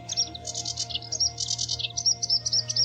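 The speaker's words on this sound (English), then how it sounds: "I hear chirps far away." Quick, high bird chirps repeat in steady bursts over a constant low hum, somewhat distant, with no talking.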